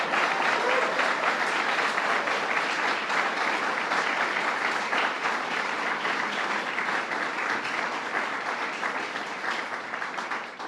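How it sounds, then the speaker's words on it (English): Ceremony audience at an outdoor bill-signing event in Kingston gives sustained applause, a thick continuous roar of clapping from a sizable crowd that holds steady and only starts easing off at the very end. "Let's give it a round of applause."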